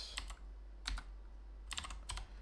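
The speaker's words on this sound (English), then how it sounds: "Just typing some numbers into my mapping software." Short bursts of typing on a computer keyboard while numbers are entered into mapping software: quick clusters of close, crisp key taps separated by pauses, over a low steady hum with no speech.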